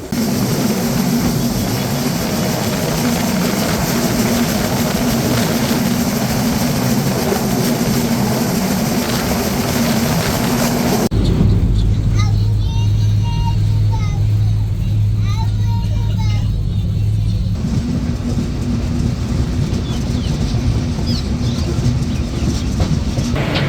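Chitra Express running on its track, with a loud, continuous rumble and rattle of the train and a change in tone partway through. Road vehicles move alongside.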